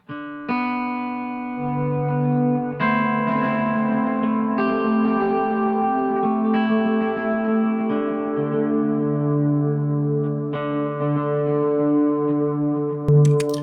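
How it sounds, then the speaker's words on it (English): Sustained electric guitar notes through a stereo delay effect on its halo setting ring out with layered echoing repeats that spread and trail behind each change, played alone with no voices. "we want to hear the delays we're shooting out"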